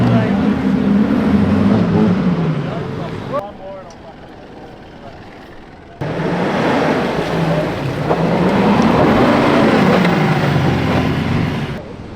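A car engine labours and revs while the vehicle sits bogged in soft beach sand at Indian Head Rocks on K'gari, Australia, its droning pitch rising and falling loud and close, with wind and people talking over it and a brief quieter lull midway.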